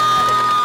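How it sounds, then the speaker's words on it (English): A crowd cheers and whoops loudly for the winning team at a boat design competition awards event, a dense, continuous burst of voices filling the short moment. "Give them a big round of applause."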